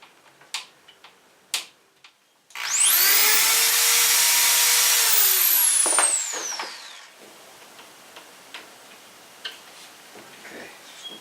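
A power drill drives drywall screws into wood on a portable wheeled greenhouse build, giving one sustained motor whine that rises and falls in pitch, framed by scattered light taps and clicks.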